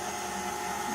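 A kitchen mixer starts up on slow speed, blending a paleo fudge mixture with freshly ground nutmeg. It gives a steady, close whirring hum for about a second, with no talking.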